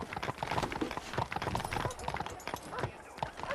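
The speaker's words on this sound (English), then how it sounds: "I asked Nastas to bring the horses around front." Horses' hooves clip-clop steadily and close in the Red Dead Redemption video game, a quick continuous trotting rhythm with a horse briefly whinnying amid the busy mix.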